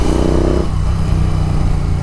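A Royal Enfield Continental GT 650 with a Red Rooster aftermarket exhaust, riding in traffic: a loud, close engine rumble with a deep exhaust note, steady throughout and slightly rougher in the first half.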